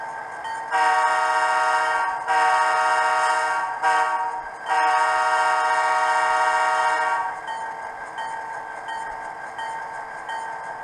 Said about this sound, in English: You hear the bell came on.